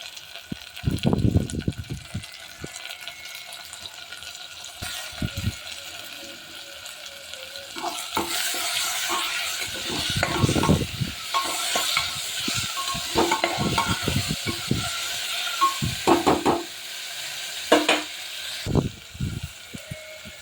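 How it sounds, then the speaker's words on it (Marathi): Tomato tossed into a pan of frying ginger, bursting into a loud hiss and sizzle while a spoon stirs and scrapes in uneven strokes, close up and without voices. "अद्रक चांगलं झाले फ्राय आता आता टोमॅटो टाकून घेऊ"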